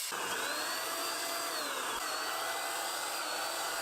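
A cheap Teccpo HVLP paint sprayer spraying white emulsion paint onto a sanded plywood panel, its turbine whining and hissing in a steady, loud, close drone with a slight wavering pitch.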